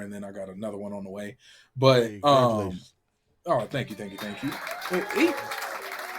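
A soundboard applause effect bursts out as a wash of canned clapping and cheering for the final couple of seconds, mixed under men chatting over each other in a casual gaming talk show.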